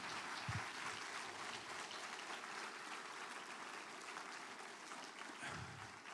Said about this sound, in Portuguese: vamos aplaudir essa equipe linda aqui